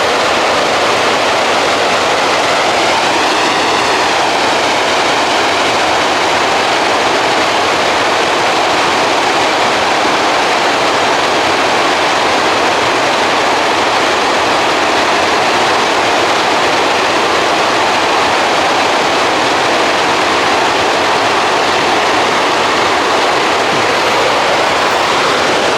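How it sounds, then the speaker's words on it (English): Water pours steadily over a dam spillway along a rock wall on the Duck River, a continuous broadband rush heard from nearby with no voices over it. "All along that rock wall of the dam. And there's the spillway."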